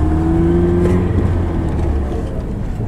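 A car cruises along a country road, its engine drone and tyre rumble loud and steady from inside the cabin, with a faint rise in pitch and no talking.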